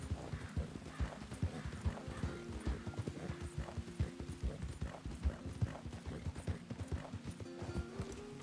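Horse hooves clip-clop at a steady, rapid trot in the RedM roleplay game, a continuous rhythmic run of muffled thuds at moderate volume.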